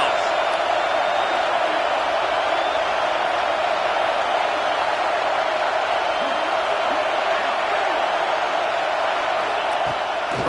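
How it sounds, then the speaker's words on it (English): A stadium crowd roars steadily at a football game as the defense lines up on third down, a loud, dense wash of cheering that holds for the whole stretch with no letup. "Decibels rising as the crowd gets behind this defense on third down."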